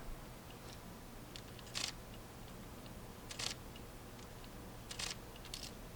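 Three quiet Fujifilm X-T4 mirrorless camera shutter clicks, each a crisp double snap spaced about one and a half seconds apart over a faint steady hum.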